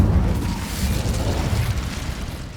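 Incendio fire spell cast in Hogwarts Legacy: a dense, roaring whoosh of flame with a low booming body, sustained for a couple of seconds and gradually easing off.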